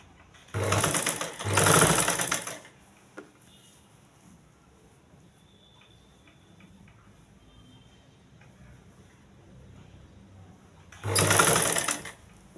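A sewing machine stitches a blouse neck band in short loud bursts, two quick runs at the start and another near the end, with quiet handling and faint ticks between.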